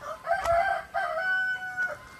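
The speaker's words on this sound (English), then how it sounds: "You hear the rooster?" A rooster on a rural property in Camiling, Tarlac, Philippines crows clearly and fairly close, in two or three bursts of strained, wavering calls.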